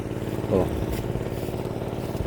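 A water pump engine runs throughout with a steady, low mechanical drone at moderate volume, with a brief louder rattle early on.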